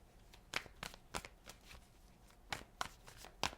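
Tarot cards being shuffled and drawn from a deck, a run of soft riffling flutters and sharp slaps close by, coming in irregular bursts with quiet gaps between them.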